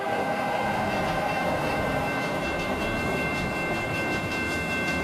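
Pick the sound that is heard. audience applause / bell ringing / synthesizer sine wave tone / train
train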